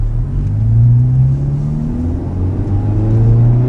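A Honda Civic fitted with a Magnaflow exhaust accelerates, its engine drone rising steadily in pitch as it pulls, loud and close with no talking.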